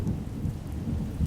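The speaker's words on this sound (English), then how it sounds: "There's a strong wind, and it's raining." A low rumble of thunder rolls under steady rain, a dense, even wash of stormy noise with no voices, as a sound effect in a spoken English story.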